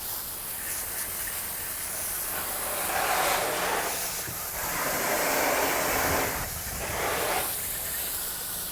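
Water spray rinsing loosened dirt and debris off a car wheel, a steady broadband hiss that swells in several longer bursts of spraying, close and fairly loud, with no talking.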